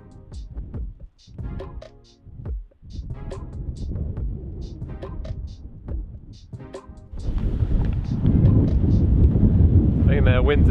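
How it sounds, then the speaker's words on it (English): Strong typhoon wind gusts batter the microphone in roaring bursts, growing louder toward the end, with speech breaking in between gusts. "The gusts of wind are quite strong now."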